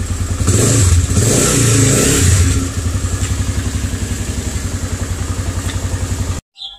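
A Freedom 200cc chopper motorcycle engine runs up close, revving briefly, then settling into a steady, rhythmic idle that cuts off abruptly at the end.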